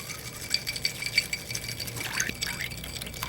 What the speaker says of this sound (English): Give it a little swirl with the swizzle stick.